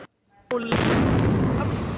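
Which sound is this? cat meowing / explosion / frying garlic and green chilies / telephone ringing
explosion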